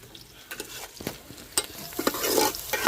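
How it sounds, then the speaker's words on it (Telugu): Oil heating in a pan for a simple stuffed ivy gourd (dondakaya) curry sizzles steadily up close, broken by scraping stirs and occasional louder crackles as the fat gets hot. "నూనె కాగిని చుస్సుమని అంటావు కదా"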